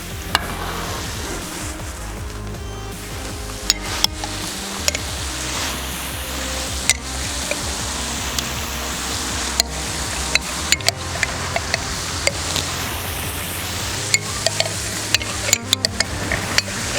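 Vegetables and tomato paste fry in a kazan for braised cabbage with chicken, giving a continuous loud sizzle and hiss with sharp, irregular scrapes and knocks of a spoon stirring against the metal pot, close up and without speech.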